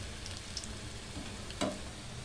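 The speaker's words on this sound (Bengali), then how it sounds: "এগুলোকে খুব ভালো করে ভাজতে হবে যাতে ভেতরটা কোনো রকম কাঁচা না থাকে, তাই উল্টে পাল্টে এগুলোকে ভাজবেন" Chowmein pakoras sizzle in hot oil with a steady, soft crackle, broken once by a short scrape of turning.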